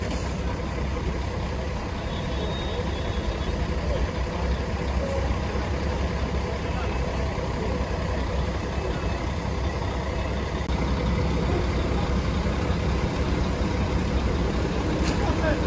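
A Buritis coach with a Scania emblem pulls into the busy Belo Horizonte bus station at Christmas. Its engine rumbles steadily and loudly throughout under general station noise, with no clear moment of arrival.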